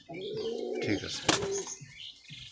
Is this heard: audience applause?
no